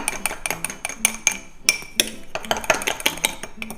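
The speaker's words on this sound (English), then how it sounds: "Stir it in." A spoon stirs heaped Milo powder in a cup with quick, rhythmic metallic clinks and taps against the sides, close and crisp.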